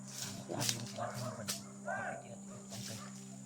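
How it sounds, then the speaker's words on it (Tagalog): Dogs barking at some distance outdoors, several yips and barks scattered over a few seconds while people talk nearby. "Mga aso ha, may aso ha."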